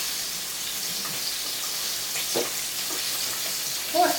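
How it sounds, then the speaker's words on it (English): Chicken livers sizzle steadily in hot frying oil, a soft continuous crackle with a few louder pops near the end and no voices. "We're just sitting here waiting on this to fry anyway."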